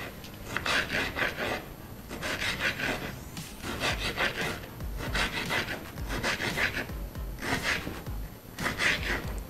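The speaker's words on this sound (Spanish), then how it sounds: "El otro tomate lo vamos a dejar para decoración y vamos a cortar en tiras" A knife cuts a tomato into strips for tuna-filled crepes, making repeated rhythmic rasping strokes on a board in steady bursts, close and moderately loud.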